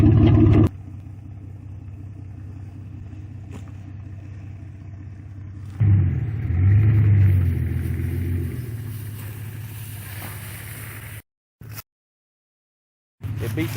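Truck engine rumbling steadily while dragging a tire on a chain through a roadside culvert pipe, a low sustained drone that swells louder midway, then cuts out briefly near the end.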